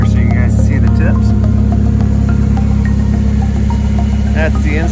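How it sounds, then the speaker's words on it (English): A Polaris Slingshot three-wheeler engine with a Stage 1 turbo and Welter dual exhaust idles steadily with a low, even rumble, close by, while a person talks over it. "I got a really nice little purr here at idle"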